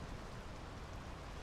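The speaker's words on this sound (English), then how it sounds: "The rain's picking up." Rain falls steadily in the video game Draugen as a dense, even hiss at low level with no voices.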